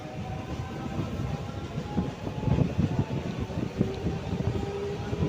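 A MEMU train pulls out of Mandamarri station, its low rumble and irregular clatter of wheels rising and falling close by, with no voices over it.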